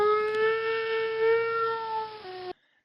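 A house cat gives one long, steady, drawn-out meow lasting over two seconds, a sustained tonal wail like a distant tornado siren that dips slightly near the end before cutting off into silence.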